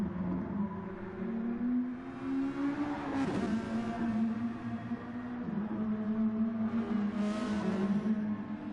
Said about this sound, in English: waiting for Val, Kevin and Galaxy Skull to all cross the line now, as the drivers have completed 20 laps in today's race